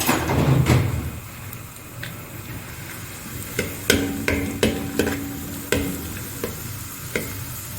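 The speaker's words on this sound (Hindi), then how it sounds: "सौंगी को हमने फ्राई कर लिया हल्का सा।" Spring onion fries lightly in oil, a brief burst of sizzling at the start that settles into a quieter hiss broken by several sharp utensil knocks against the pan, no voices present.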